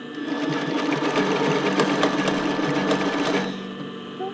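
A sewing machine stitches elastic steadily at close range with a rapid mechanical whir, then slows and stops near the end.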